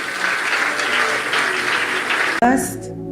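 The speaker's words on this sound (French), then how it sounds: "Et toute sa délégation, on peut les apprécier, les acclamer très fort." An audience in Kinshasa applauding and cheering a prophet's delegation, dense clapping that cuts off abruptly before a voice starts speaking.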